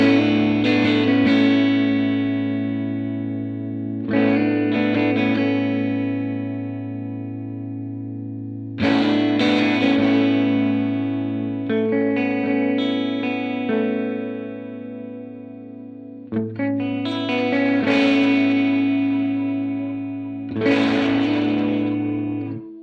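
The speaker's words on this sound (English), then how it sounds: "can actually tell there's a flanger there" Electric guitar chords ringing out with a sweeping, whooshing flanger effect from a TC Electronic SCF Gold Reissue pedal, played in several separate strums that sustain and fade, loud and close.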